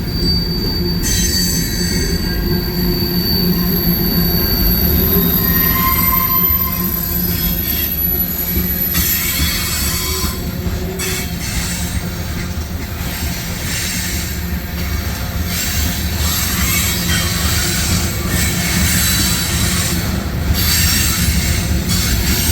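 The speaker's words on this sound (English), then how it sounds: "CSX coal hoppers." A CSX mixed freight train of coal hoppers rolls past close by, wheels squealing sharply over a steady loud rumble of rail cars, with the squeal rising and fading as the hoppers go by.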